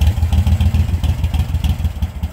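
A carbureted motorcycle idles on a freezing cold day after a cold start with choke, its close, loud, lumpy low thump pulsing evenly and alone.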